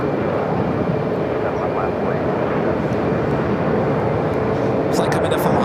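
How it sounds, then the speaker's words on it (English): A Southwest Airlines Boeing 737 MAX 8 taxis toward a gate at the newer Terminal 4 addition of Phoenix airport, its steady loud engine roar broad and unbroken throughout, with a few faint higher ticks near the end. "Southwest flight heading into one of the gates of the newer addition here to Terminal 4."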